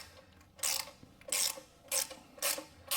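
A socket wrench ratchets on the oil pan drain plug of a 2017 Toyota Sienna, four short clicking bursts in an even rhythm, close and clear.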